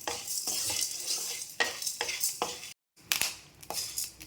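Salt roasts in a dry pan while being made into sambar powder, giving a close, busy crackle and sizzle broken by scraping stirs, with a brief gap of silence partway through.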